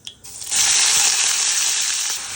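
Plantain slices drop into hot oil with popping mustard seeds, a sudden loud sizzle that settles into a steady, bright frying hiss.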